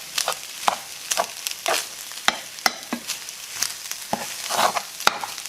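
Egg fried rice stirred in a frying pan with no wok, giving repeated close scraping and clattering strokes over a soft sizzle, steady and alone without talk.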